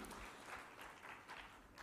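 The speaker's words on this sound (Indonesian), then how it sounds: "marilah kita beri tepuk tangan yang meriah buat para narasumber kita kali ini" Audience applauding the speakers at a national resilience seminar, a dense, steady burst of clapping across a hall, moderately loud and free of speech.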